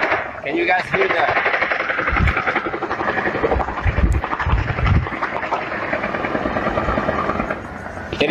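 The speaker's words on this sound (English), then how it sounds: "There is a gunshot." Bursts of gunfire during a mass shooting in Las Vegas thud through a steady, noisy din, with voices audible in the background and a few heavier reports standing out.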